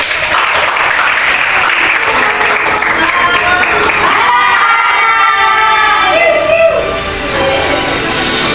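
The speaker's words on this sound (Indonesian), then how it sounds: "Beri tepuk tangan yang meriah." A seated audience at an alumni talk event gives loud, sustained applause to welcome a speaker; dense clapping fills the whole stretch before easing slightly near the end.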